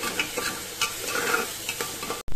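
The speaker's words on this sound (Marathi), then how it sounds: "आता ह्याच्यात टाकतो 1 चमचा भरून हळद आणि आपण वाटण केलेलं टाकून देतो ह्याच्यामध्ये. परतून घ्यायचं छान." Turmeric and ground spice paste sautéing in oil for a spiced rice dish, with a steady close sizzle and the scrape of a spoon stirring the pan, ending in a brief dropout.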